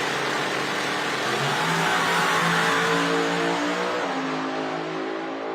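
A nitro funny car with a roots-style blower runs at a drag racing event, its engine roaring loud and steady with rising and falling harmonic tones as it revs through the run.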